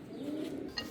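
A Lal Pari pigeon gives a soft, low coo, one short rolling call close by, with a faint chirp near its end.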